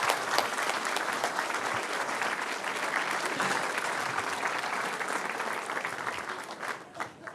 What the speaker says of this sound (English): please join me this evening to welcome Jacob Brown to present Turning Fuel into Failure